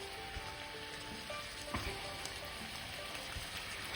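Skinned chorizo sausage sizzles in a pan for paella, a soft steady crackle with scattered pops and a faint scrape partway through, close but fairly quiet.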